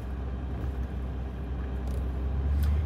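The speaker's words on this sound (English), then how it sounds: "this truck pulling this camper" A truck towing a camper loaded with fresh water drones along as a steady low engine and road rumble from inside the cab, rising slightly toward the end, with no voices.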